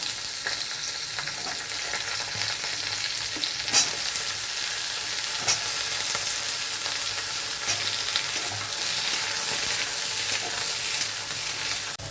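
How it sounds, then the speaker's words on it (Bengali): Eggplant pieces sizzle in a little oil in a kadai, giving a dense, even crackling hiss that stays loud and close throughout with small pops scattered across it. "কড়াইতে অল্প তেল দিয়ে এবারে বেগুনগুলো ভেজে তুলে নেব।"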